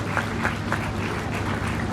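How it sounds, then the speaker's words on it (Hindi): Audience applause at a comedy and motivational talk, a steady, moderately loud spread of many hands clapping with a low hum beneath it and no talking. "तालियां कमजोर"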